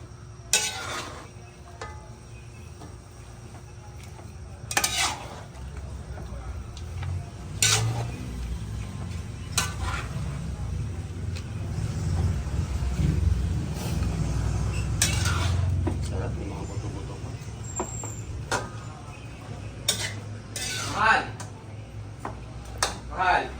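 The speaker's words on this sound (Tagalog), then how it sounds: "Yan, natin lang po haluin." Lechon paksiw stirred in a cooking pot, with scattered metallic clinks and scrapes of the spoon against the pot over low background noise, while people talk nearby.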